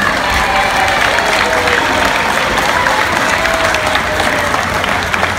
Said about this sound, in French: bienvenue par une chaude acclamation